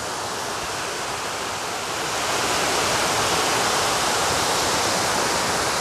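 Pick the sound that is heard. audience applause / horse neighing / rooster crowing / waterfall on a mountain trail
waterfall on a mountain trail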